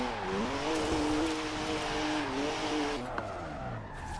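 A BMW Z4 with just under 500 horsepower slides through a drift in Forza Horizon 4, its engine droning steadily while the tires squeal continuously, loud and close throughout.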